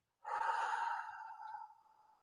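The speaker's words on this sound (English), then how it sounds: "Breathe in slowly through your nose and exhale through your mouth." A single slow breath, a soft nasal inhale followed by a long, airy exhale through the mouth that gradually fades out, close and quiet with no talking.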